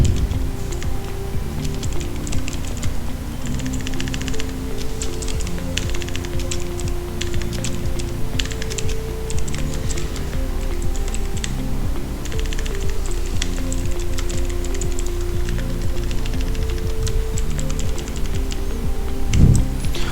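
A computer keyboard is typed on steadily while HTML is written, giving dense, continuous key clatter over a constant low hum for the whole stretch, with no talking.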